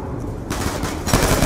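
Sustained burst of rapid automatic gunfire from an M27 rifle in Call of Duty: Black Ops II Zombies on the Nuketown 2025 map, loud and close, continuing without pause and intensifying toward the end.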